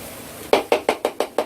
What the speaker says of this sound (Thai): เคาะกระทะครับ